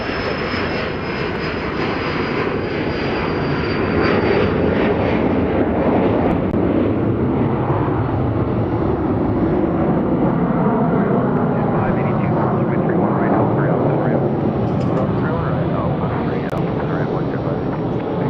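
A very loud aircraft takes off at Dallas Love Field with a sustained, roaring engine rumble that swells and holds for the whole stretch, while radio voices talk underneath.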